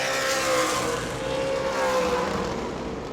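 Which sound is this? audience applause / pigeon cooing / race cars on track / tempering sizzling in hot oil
race cars on track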